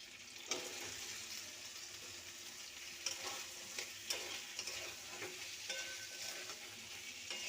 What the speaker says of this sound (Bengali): মটরটাকে ভালো করে কষিয়ে নেব